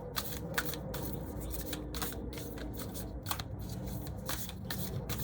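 Tarot cards are shuffled, flicked and laid down in a quick, continuous patter of papery snaps and slides, close and fairly loud, with no talking.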